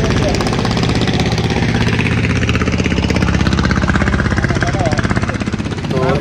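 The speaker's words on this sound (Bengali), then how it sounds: "একটা বালুর ট্রলার যাচ্ছে" Engine of a passing sand-carrying trawler boat on a river, a loud, steady mid-pitched diesel chug with rapid rhythmic pulsing that holds throughout and swells slightly midway, with voices in the background.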